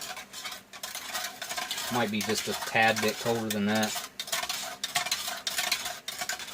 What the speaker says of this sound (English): stir that up a little bit.